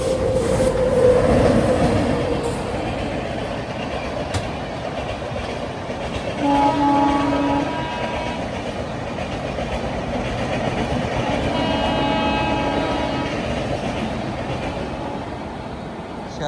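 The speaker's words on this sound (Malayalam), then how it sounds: "ശതാബ്ദി അങ്ങനെ ഓട്ടിയടിച്ചു പോയി." The Puri-Howrah Shatabdi Express rushes past alongside, heard as a loud, steady roar of wheels and rattling carriages with clickety-clack rhythms and brief horn tones partway through, all continuous and close.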